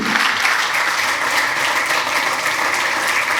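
Conference audience applauds after a demo session presentation on vehicle setup, with loud, sustained, evenly dense clapping from a large crowd and no talking.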